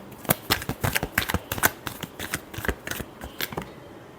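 Tarot cards being shuffled for a reading, a rapid run of crisp riffling snaps and flicks in irregular bursts, close and fairly quiet, with no voices.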